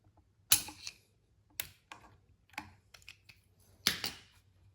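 Snips cutting and bending a metal clamp band on a Jeep JK driveshaft CV boot: four sharp, close clicks and snaps spaced about a second apart, with small rattles between them, in an otherwise quiet room.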